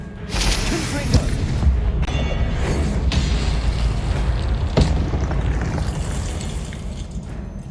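Confringo fire-blast spell explosions in the Hogwarts Legacy video game: several sharp cracking booms with shattering debris over a loud, continuous combat rumble, and a voice calls out between them.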